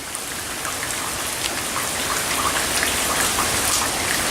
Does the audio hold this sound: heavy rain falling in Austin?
yes